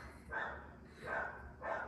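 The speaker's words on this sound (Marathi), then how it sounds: "पहिल्यांदा मी ते कुत्रा भुंकताना ऐकतोय असं रात्री" A dog barking at night, three evenly spaced barks, faint and somewhat distant.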